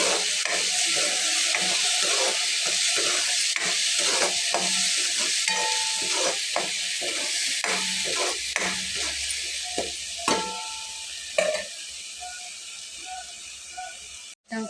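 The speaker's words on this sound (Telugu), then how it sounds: "ఇలా మొత్తం వేసుకున్న తర్వాత నూనెలో ఫ్రై చేసుకోండి కొద్దిగా." A spinach mixture fries in oil in a long crackling sizzle, with repeated scraping and clicking of stirring throughout, close and fairly loud, and no speech.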